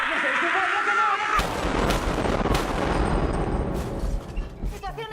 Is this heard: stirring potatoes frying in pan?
no